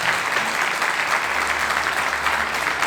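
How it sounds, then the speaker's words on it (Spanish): A church congregation at a Spanish-language Yom Teruah service claps loudly and continuously, a dense wash of many hands from start to finish with no break. "Dale un aplauso muy fuerte al Señor"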